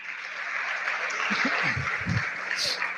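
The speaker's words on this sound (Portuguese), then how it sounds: "Você pode aplaudir a Jesus por isso?" A church congregation applauding during a worship service, a moderate wash of clapping with a few low vocal murmurs and exclamations mixed in from the crowd.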